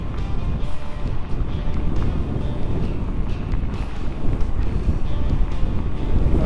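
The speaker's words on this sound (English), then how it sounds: "just heading back into the headwind" Strong headwind gusts buffet the microphone of a rider on an e-bike heading south, making a continuous loud, rumbling roar that surges and eases throughout.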